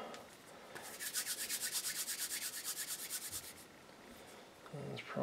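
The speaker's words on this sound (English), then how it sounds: "I'll get some more of this plumber's putty out here. I'm going to roll it up." Plumber's putty rolled by hand produces a quiet rhythmic rubbing, about twenty quick even strokes in a steady back-and-forth pattern, close and soft, followed by a brief handling noise.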